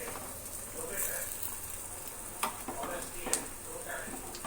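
Urad dal vadas (minapa garelu) fry in hot oil with a steady, dense sizzle, broken by a couple of brief clinks, while a voice talks over it.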